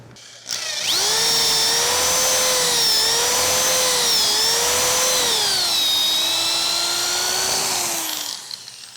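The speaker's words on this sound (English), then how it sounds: "I can then drill my first hole." A power drill bores a 3/8 inch hole through a drill guide into a wooden drop-leaf table part. The loud, close whine holds steady for about seven seconds, dipping slightly in pitch as the bit bites, then spins down.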